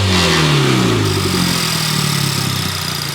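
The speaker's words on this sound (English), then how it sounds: "I'm gonna give it a couple revs, see how it sounds." A Honda Civic Type R FK8 fitted with a Gruppe M intake revs loudly up close, its engine note climbing and sweeping in a couple of rising pulls before settling back, with no talk.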